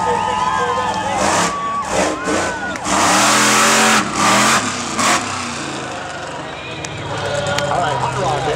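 Bigfoot monster truck engine roaring and revving hard in bursts during a freestyle wheelie attempt, loud and close, with crowd noise and an announcer talking over it.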